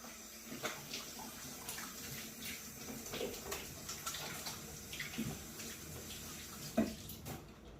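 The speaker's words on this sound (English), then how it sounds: "Just wash my hands." Hands are rinsed under a running kitchen tap in a continuous, moderately quiet stream of water, with small splashes and shifts in the flow throughout.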